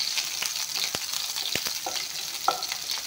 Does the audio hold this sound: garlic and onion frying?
yes